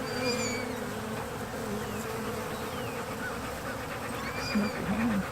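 Honey bees buzzing around a beehive whose top has just been taken off, a dense, continuous drone with individual bees passing near, steady and fairly loud throughout.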